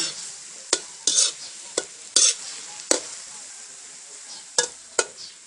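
Several kinds of wild mushrooms stir-fried in a pan with oyster sauce and seasoning: a close, steady sizzle broken by a series of sharp, irregular spatula scrapes and clanks, no voices.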